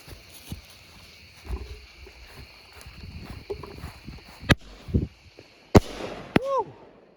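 A 200 gram firework cake called Little Badass begins firing outdoors, with a few sharp, separate bangs in the last seconds over quiet background noise.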